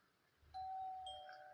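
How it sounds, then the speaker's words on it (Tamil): A doorbell in a video game rings once with a clear sustained chime, then a second, higher tone, set against a quiet low hum. "காலிங் பெல் அடிச்சுட்டு"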